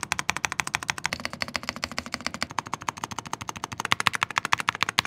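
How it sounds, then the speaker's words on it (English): Rapid, steady clacking of a mechanical keyboard fitted with Perry Kendi switches and stabilizers, close and crisp with an even typing rhythm and no talk. "Let's try to listen to these stabs using the switches that our friends from Zion Studio sent us. These are the Perry Kendi switches."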